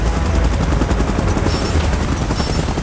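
Helicopter rotor thumping loudly and continuously in PUBG during a fight with a mechanical Godzilla, mixed with dense rapid gunfire and combat noise.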